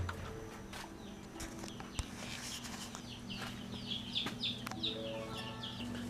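Chicks peep with high chirps inside a garage brooder, while low clucking and a steady room hum sit underneath, moderately close throughout.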